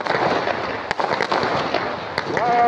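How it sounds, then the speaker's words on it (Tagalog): Fireworks display over Darling Harbour in Sydney, with a steady crackling roar of bursts and several sharper pops standing out, heard from the crowd at a moderate distance. "so panoorin niyo po ang fireworks"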